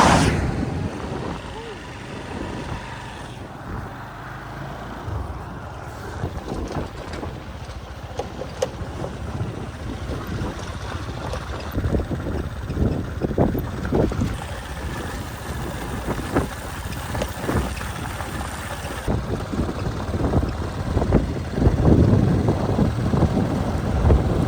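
Riding a motorbike along a route in Tanzania toward a Masai village, with heavy wind buffeting the microphone over a continuous low engine rumble for the whole stretch, and someone talking at times.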